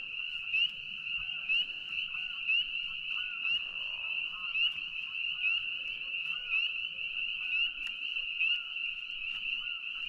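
A dense, loud chorus of frogs croaking without pause at Frog Haven, a steady pulsing drone with faint low rumbles underneath and no voices.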